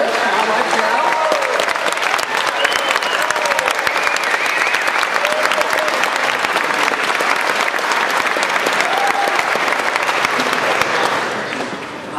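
Dense, sustained applause from a large college audience at Oberlin College greets Carol Paul, loud and continuous with occasional voices rising from the crowd before it tapers at the end.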